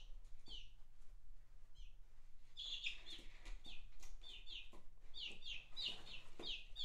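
Small chickens give repeated high clucks and chirps in short bursts over a low steady hum, with a quieter stretch in the middle before the clucking picks up again.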